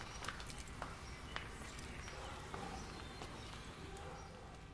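Cow hooves stepping on and hopping over a narrow sewer grate: scattered hard clicks and clops at uneven spacing over a steady outdoor background hum, fairly close, with no clear talk.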